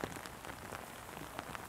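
Light rain falls outdoors in downtown West Palm Beach, Florida, a faint, steady patter of drops on surfaces with a few sharper ticks, heard alone.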